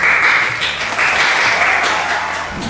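An audience at a grand launching evening event applauds for a band with loud, continuous clapping that holds steady throughout and eases slightly near the end, with no one speaking over it.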